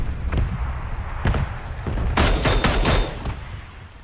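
A quick burst of several sharp video game gunshots fired in rapid succession, loud and close, preceded by a few scattered thumps.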